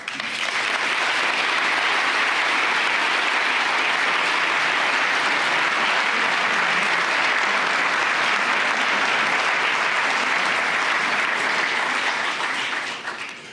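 An audience at the Munich security conference gives a loud, steady round of applause welcoming the French president, Macron, dense and sustained throughout before tapering at the very end.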